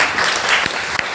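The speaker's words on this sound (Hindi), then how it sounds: "बहुत जोरदार तालियां और मेरे प्लान के लिए बहुत जोरदार तालियां।" Audience applause during a Hindi motivational talk: a dense, steady burst of many hands clapping at close range, filling the whole short stretch without letup.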